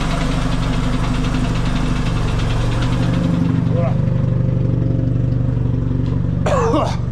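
A Yamaha XS650 motorcycle idles steadily and close by with a low, lumpy rumble while its points are being set up, with brief voices and small handling noises over it near the end.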